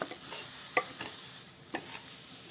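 Red poha dry-roasting in a pan with no oil, a soft steady hiss with a few light scrapes and taps of a spatula stirring the flakes, fairly quiet and close, with no talking.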